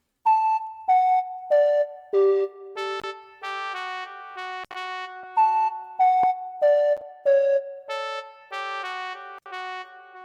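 A trombone and a flute programmed in FL Studio for an Afrobeat track trade phrases in call and response, with a steady series of short, bright, ringing notes that are loud and close.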